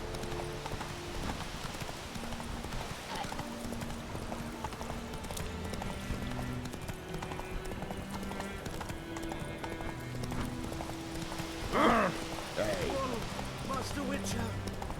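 Horse hooves gallop in The Witcher 3, a steady clip-clop running throughout under game music, with a brief whinny near the end.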